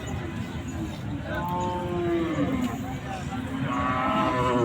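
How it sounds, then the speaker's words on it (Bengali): A bull at a busy cattle market lets out a long, loud moo that swells and holds over several seconds above constant crowd noise and background chatter. "এখানে দুইটা গরু দেখতে পারতেছেন"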